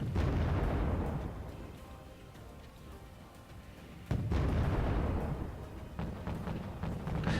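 Mortar fire and explosions in the video game Wargame AirLand Battle: a loud booming burst opens, a rumbling decay follows, then a second heavy blast hits near four seconds with crackling impacts trailing off.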